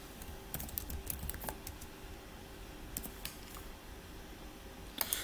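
Quiet computer keyboard typing during an accounting exercise, short bursts of light clicking keystrokes with pauses between, ending in a couple of sharper key taps.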